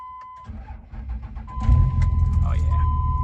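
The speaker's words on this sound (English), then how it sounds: "A little cold start here." A truck parked with its trailer is cold-started: after a steady warning chime, the starter cranks and the engine catches into a loud, rumbling idle close by, with the chime continuing over it.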